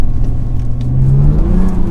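A Lexus IS200 with a straight-six engine accelerating, its rising engine note climbing steadily in pitch, loud and close throughout.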